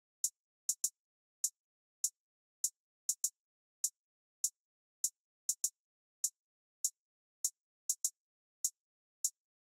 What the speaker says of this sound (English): I played this very, very simple close hat pattern just to give the beat